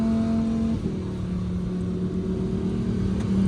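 A 2023 Lamborghini Huracan EVO in Corsa mode drives through a curve. Its engine holds a steady, close drone that shifts pitch slightly partway through as the car rolls on, with no voices.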